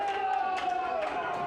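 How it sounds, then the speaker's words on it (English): Crowd at an Old Wesley versus City of Armagh rugby match stirs on both sides late in the game, a steady broad murmur and cheering with scattered claps beneath a commentator's voice. "the crowd have come to life here on both sides as we enter the last 5 minutes of this game"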